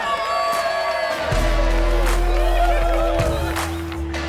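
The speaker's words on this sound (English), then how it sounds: "Round of applause for our winner in the performance class" A crowd at the North Sound Maxi superyacht regatta prize ceremony cheers and whoops for the performance class winner, with shouts over a steady musical tone and deep rumble, loud and close.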